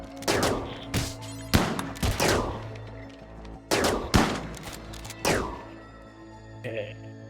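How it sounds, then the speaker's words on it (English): Gunfire in the video game RimWorld: a series of sharp gunshot bursts, some in quick pairs, spaced over several seconds above a low steady background hum, with sustained ringing tails after each shot. "Gilbert, come down here and start shooting at that guy"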